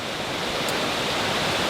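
Tinuy-an Falls in Mindanao, Philippines, a big waterfall heard as a loud, steady, unbroken roar of crashing water filling the whole moment, with no voices.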